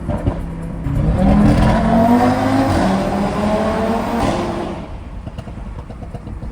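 Audi TT RS, rated at 520 horsepower, accelerates with its engine revving up loudly and close, the pitch climbing before easing off as it settles into steady driving, heard from inside the car.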